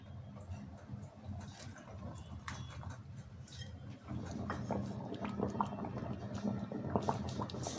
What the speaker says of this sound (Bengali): ডালটা ফুটতে শুরু করে দিয়েছে